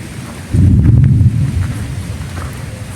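Rain falls at a Thai hillside temple with stepped paths, a steady wash that swells into a heavier, louder rumble with gusty low noise midway, then eases but keeps going.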